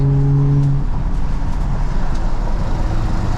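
BMW 435 with a built 500 hp engine cruising on a highway, a loud steady engine and exhaust drone with road and wind noise filling the cabin throughout, no talking.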